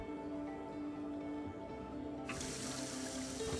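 A faucet in the Prey video game suddenly starts running, a steady rush of water pouring out after a quiet stretch of low background hum.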